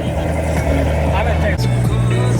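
Corvette C7 ZR1 with a catless mid-pipe running on 95 octane gas, its engine a loud, steady, deep growl heard up close, with a person talking over it.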